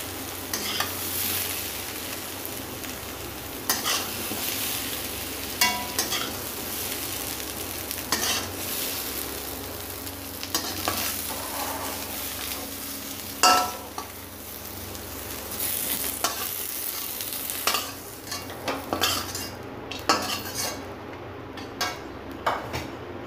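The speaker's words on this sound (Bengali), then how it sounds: "তো বন্ধুরা হালকা ফ্রাই হয়ে গেছে, আর বেশি ডিপ করে ফ্রাই করব না।" Vegetables for a vegetarian festive dish fry lightly in a pan with a continuous sizzle, broken by repeated spatula scrapes and clinks against the metal as they are stirred.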